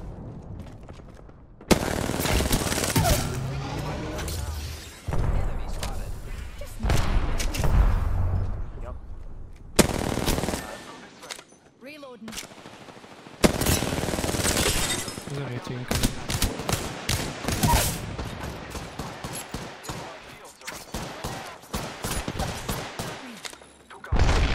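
Apex Legends firefight with rapid automatic gunfire in loud bursts and single shots from enemies close by, broken by short lulls, with players talking over it.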